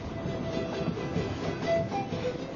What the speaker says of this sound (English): The train snakes higher and higher.